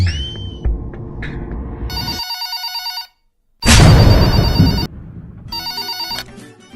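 A telephone rings at a police station in a comedy skit, with repeated bursts of electronic trilling, loud and close, broken by a short silence and over low background noise.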